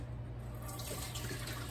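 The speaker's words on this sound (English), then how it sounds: "I'm just gonna pour my squash out and drain that water out that we used to can it with" Home-canned garden squash poured into a kitchen drainer, its canning water running off in a steady splashing stream close by for under two seconds, with no talking.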